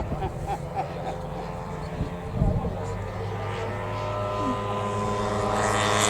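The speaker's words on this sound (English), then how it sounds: "They're trying to start those engines a little bit like they did in the old days." A model aircraft engine, an early propeller-driven type like a Siemens-Schuckert World War I replica, being hand-started by swinging the propeller at an outdoor model air show; a steady engine drone builds louder over a continuous hum, with people talking nearby.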